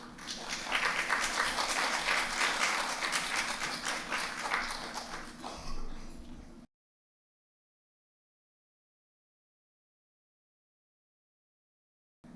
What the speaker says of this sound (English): let's welcome him with a warm round of applause as he takes the pulpit